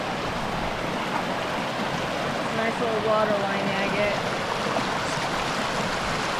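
Loud creek water rushing steadily over rocks, a dense continuous roar close by, with someone speaking briefly over it.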